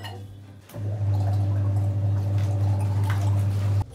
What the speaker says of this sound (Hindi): गार्गल करेंगे क्योंकि डॉक्टर ने बोला है कि मेरे को